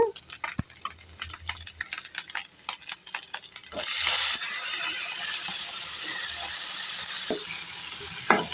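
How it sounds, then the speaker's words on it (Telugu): Utensil taps and scrapes in a pan, then a sudden loud sizzle as eggplant pieces hit hot oil, frying steadily to the end. "ఇప్పుడు నేను కట్ చేసి పెట్టుకున్న వంకాయ ముక్కలు వేస్తున్నాను"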